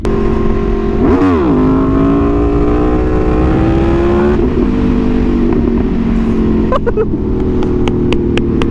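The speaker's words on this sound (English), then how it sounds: "I do like this exhaust. It is utterly obnoxious." An Aprilia Tuono V4 motorcycle fitted with a new, obnoxiously loud aftermarket exhaust without its dB killer roars close up, revving and accelerating through the gears with a steady, raspy engine drone.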